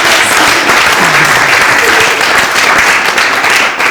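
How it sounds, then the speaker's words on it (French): Audience applause in a café talk-show setting, a steady dense wash of many hands clapping at close range, loud and sustained for the whole stretch with no voices over it. "Applaudissements pour Tinès."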